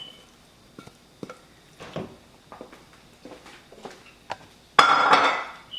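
A spoon stirs fungi cornmeal in a pot, with scattered clinks and scrapes against the metal, then a louder scraping rush near the end.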